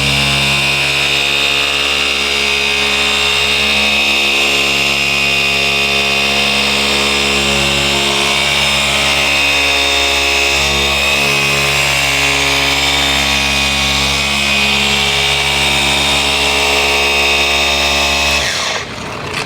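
Machine polisher running on car paint with light down pressure, a loud continuous droning motor hum with a rich buzzing tone, steady throughout and then winding down at the end.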